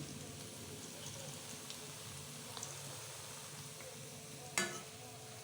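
Pointed gourd (parwal) pakoras fry in oil with a faint, steady sizzle, a few soft ticks, and one sharper clatter near the end.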